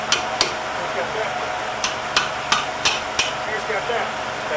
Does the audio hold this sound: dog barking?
no